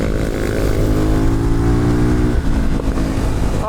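Sherco supermoto single-cylinder engine revving hard on a track, loud and close, climbing in pitch through the gears with a brief dip as it shifts, then pulling again.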